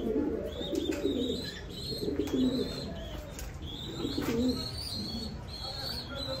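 Red Lahori fancy pigeons coo in repeated low, throaty bursts nearby, with faint higher chirps from other birds in the background.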